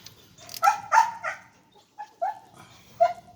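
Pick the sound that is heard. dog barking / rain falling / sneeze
dog barking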